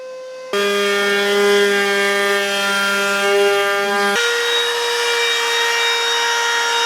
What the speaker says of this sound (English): I'm adding a small chamfer to each one, which gives a V-groove when butted together